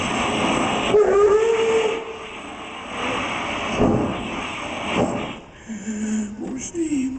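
A voice imitates a long steam train, with chuffing, hissing steam and drawn-out whistle tones over several seconds at a live sound-effects performance in Wisconsin Dells.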